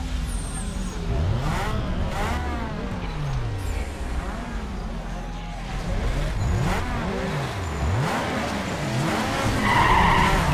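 Ford Mustang in the Need for Speed Underground 2 racing game, engine revving with repeated tire skids and squeals over a moderate game soundtrack, sweeping pitches rising and falling throughout.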